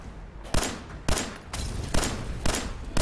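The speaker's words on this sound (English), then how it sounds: "Someone has a minigun." Heavy bursts of minigun fire in the Fallout 4 video game, about six loud blasts at a steady half-second rhythm over a continuous noisy roar, with no talk.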